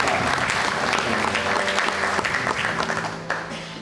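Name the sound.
applause for God and Lita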